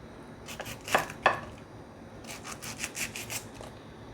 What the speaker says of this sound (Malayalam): ഒരു ആറ് പച്ചമുളക് വലിയ പച്ചമുളകാണ് അത് നമുക്കിതിലേക്ക് അരിഞ്ഞിടാം